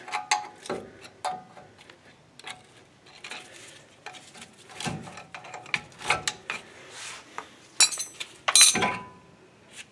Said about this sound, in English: take a screwdriver, use it as leverage off the bracket